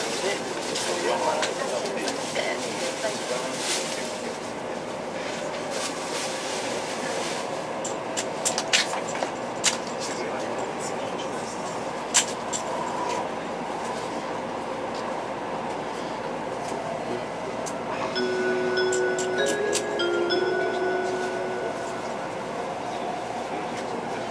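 Nozomi N700 Shinkansen bullet train heard from inside a passenger car as it pulls out of Osaka station, a steady low rumble with light rattles and a few clicks, plus a brief tonal chime near the end.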